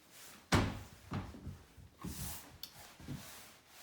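Several drawers in a small studio apartment are opened and closed in quick succession, a sharp wooden thud followed by sliding knocks and bumps, close and fairly loud, with no talking.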